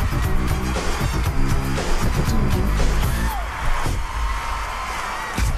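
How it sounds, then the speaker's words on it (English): A big crowd yells and whoops loudly at a performance on American Bandstand, with dense cheering layered over pulsing music throughout. "Listen to the crowd going berserk."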